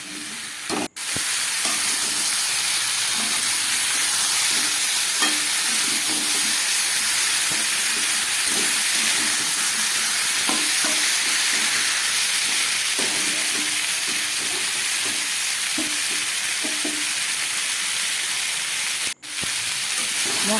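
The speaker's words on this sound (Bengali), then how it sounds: "মশলা দিয়ে খুব ভালোভাবে আমি সবজিগুলোকে কষিয়ে নিলাম।" Vegetables sautéing with salt and spices in a pan sizzle loudly and evenly throughout. Occasional stirring scrapes sound close by, and two brief cutouts break the steady hiss.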